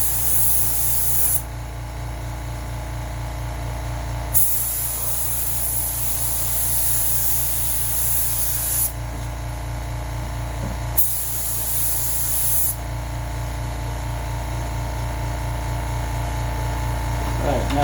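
Spray can misting a very light first coat onto an RC dragon canopy mold, steady close hiss in several bursts separated by short pauses, loud and continuous while it runs.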